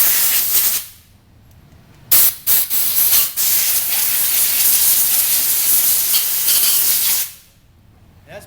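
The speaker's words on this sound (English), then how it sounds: "Now you can take some air, compressed air, just to make sure it is all" Compressed air blasts through a paint spray gun being cleaned. Two long, loud hissing bursts are broken by brief pauses and short puffs, with quiet gaps at the start and end.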